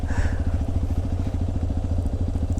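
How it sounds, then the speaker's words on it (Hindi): A cold motorcycle being push-started at night on a Himalayan touring ride, its engine thumping in a steady rapid rhythm, loud and close, with no voices. "धक्का स्टार्ट कर रहा है अपनी बाइक को।"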